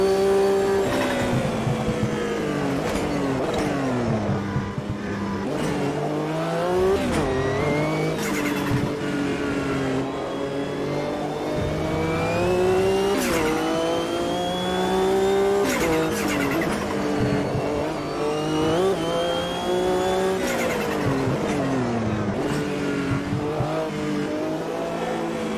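A race car in the Automobilista 2 sim racing game at a World Sportscar Championship race, engine revving and shifting through gears in rising and falling sweeps, with tires squealing as they spin, loud and steady throughout.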